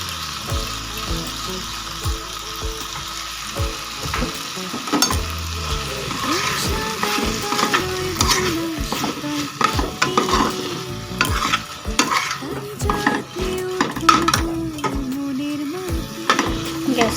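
Pumpkin stems and leaves frying in a kadai over a low gas flame are stirred with a spatula, giving steady close scraping and clinking over a soft continuous sizzle, with no talking.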